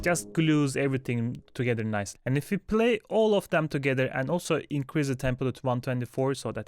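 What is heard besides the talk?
No distinct noise like a dog, phone or traffic.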